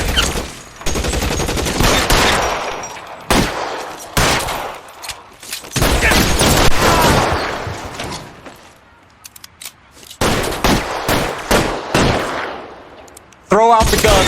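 Gunfire during an LAPD shootout in the L.A. Noire video game: loud, dense bursts of shots in several clusters over about fourteen seconds, with brief gaps, speech-like stretches mixed in, and a sharp burst near the end.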